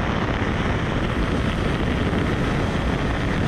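A Bajaj Platina 110 motorcycle cruising in fifth gear near its 90 km/h top speed, heard as a steady, dense roar of engine and rushing wind buffeting the microphone with no pauses.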